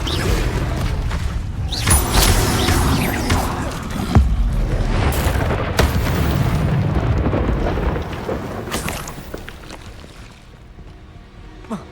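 Fire spell blasts in Hogwarts Legacy, a run of loud booming explosions with crackling bursts and rumbling tails over several seconds, ending in a faint quieter stretch.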